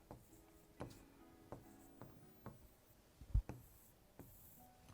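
A teacher writes the lesson topic on a classroom board: faint, evenly spaced strokes and taps come roughly every half second, with one sharper knock near the end.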